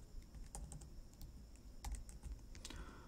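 Steady computer-keyboard typing while code is written for a Laravel 11 API, with scattered clicky keystrokes in quick irregular bursts over a faint low background hum, close and fairly quiet.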